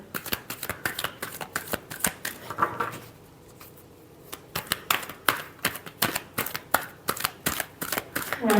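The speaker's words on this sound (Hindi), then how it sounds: "last shuffle" Tarot cards are shuffled close by in rapid riffling bursts, a brief pause in the middle and then more quick flicking shuffles.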